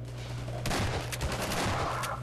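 Close shotgun fire in Half-Life 2, a sharp double blast followed by a rapid run of further loud shots and clattering impacts over steady low background rumble, with no speech.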